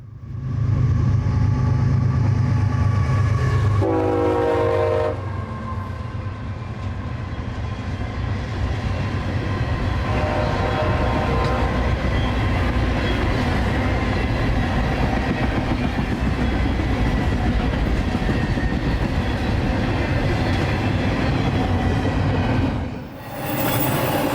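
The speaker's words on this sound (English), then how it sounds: "northbound I-032 came blasting north through town with more intermodal and trops for New Jersey" A northbound intermodal freight train passes through a small town in Folkston, Georgia, with a loud continuous rumble of wheels and cars, brief squeals and clatter, close by and without voices.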